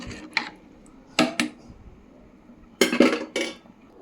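A metal lid is set onto a cooking pot while making ghee rice with mutton gravy, a few sharp clinks and clatters in two close bursts, with no talking.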